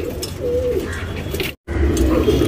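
Soft, low cooing of a female tournament pigeon repeats steadily against a busy background, briefly cut off by a moment of silence before resuming.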